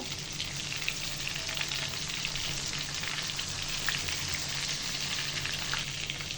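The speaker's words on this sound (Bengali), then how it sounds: "গরম তেলে চাপগুলো ছেড়ে দিব। মিডিয়াম চাপ রেখে চাপগুলো ভেজে নেবো।" Chicken chaap pieces fry in hot oil over medium heat, giving a steady, dense sizzle with fine crackling pops that runs unbroken the whole time, close by and with no talking.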